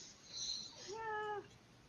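A cat gives a single drawn-out meow, rising and then sliding down, fairly faint against a quiet room background and heard alone.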